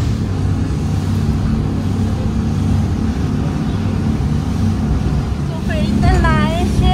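A motorboat engine drones steadily on a boat trip to Hulhumalé in the Maldives, with a low, constant rumble and wind buffeting the microphone. Voices and brief chirpy sounds rise near the end.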